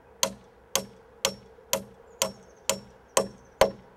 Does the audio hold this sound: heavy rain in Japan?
no